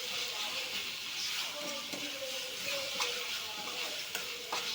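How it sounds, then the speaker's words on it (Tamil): Ginger-garlic paste sizzles and fries in a pan for a beef gravy, a steady hiss with occasional stirring scrapes and clicks, moderately close and continuous. "இஞ்சி பூண்டு பச்சை வாசனை போகும் வரை நன்றாக வதக்க வேண்டும்."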